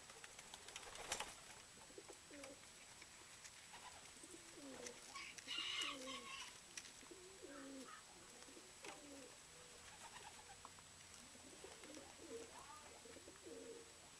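Archangel pigeons coo repeatedly close by, soft throaty rolling calls in a steady series next to an outstretched feeding hand outdoors, with faint background hiss and a steady high tone.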